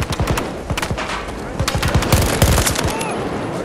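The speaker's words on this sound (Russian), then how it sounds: "Я под обстрелом!" Rapid automatic gunfire and scattered shots from Battlefield 2042 Hazard Zone combat, loud and close, bursts overlapping in a dense, continuous fusillade with brief voice callouts mixed in.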